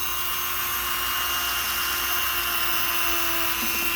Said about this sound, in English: we're going to use a Dremel tool here